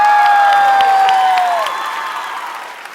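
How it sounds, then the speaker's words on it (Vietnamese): A television game show studio audience applauds beneath bright sustained electronic tones, loud at first and then gradually fading. "Thưa quý vị, một tràng vỗ tay"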